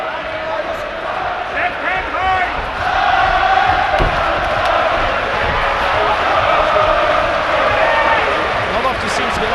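An arena crowd roars and cheers steadily throughout a UFC Fight Night bout, a dense wash of voices that swells slightly partway through, with commentary talk mixed in over it.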